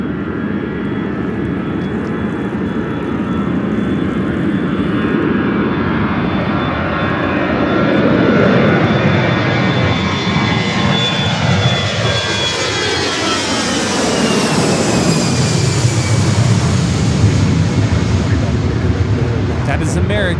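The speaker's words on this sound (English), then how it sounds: "2522 taking off to Tampa, Florida on the A319" An American Airlines Airbus A319 takes off at LAX, its engine roar building and sweeping past in a loud, sustained rush that fills the whole stretch while people chat nearby.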